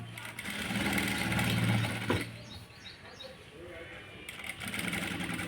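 A sewing machine stitches piping with a soft, fast motor whir in two bursts, quieter in between, with a voice talking faintly over it.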